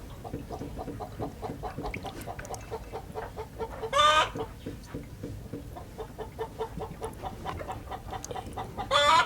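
Hens cluck steadily and softly close by, a constant murmur of clucks, with two louder squawking calls rising above it, as they are given a herbal preventive medicine.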